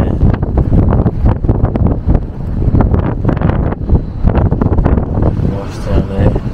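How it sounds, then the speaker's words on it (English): Strong wind buffets the microphone on the open deck of the cruise ship Iona near Hellesylt, Norway, a loud, constant roaring rumble with gusty surges that runs throughout and largely drowns out the people talking. "If you can't hear us, it's because of the winds, and I do apologise."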